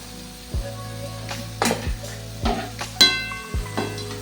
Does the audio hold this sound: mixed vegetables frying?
yes